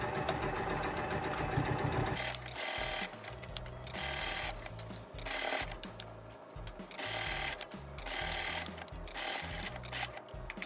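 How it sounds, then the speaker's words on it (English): A sewing machine stitches two fabric layers along a top edge for a summer dress, running in a steady, close mechanical whir with brief pauses and restarts. "And now I'm going to sew along this entire top edge."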